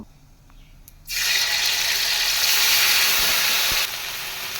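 Whole spices, including cinnamon, fry in hot oil in a pan for a pointed gourd and prawn curry. After a quiet start, a loud hissing sizzle suddenly flares up and holds steady, then eases slightly near the end.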